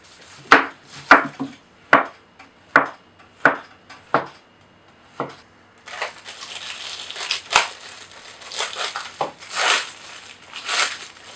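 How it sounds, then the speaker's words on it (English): Knife chopping through a pineapple on a board, about eight sharp, evenly spaced thuds at first, then quicker, rougher cuts with crunchy slicing noise, close and clear. "we need to cut up this pineapple"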